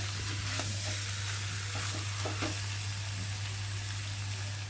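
Chicken and tomato being stirred in a pan, giving a soft, steady sizzle with faint scraping strokes under a constant low hum, quiet and close.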